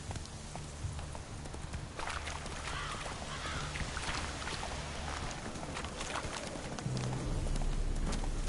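Horse hooves clip-clop in steady rhythm while a horse is ridden in the video game Witcher 3, with faint crow caws and ambient game background beneath.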